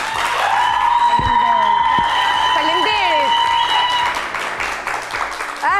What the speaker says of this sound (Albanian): Një duartrokitje për Anën,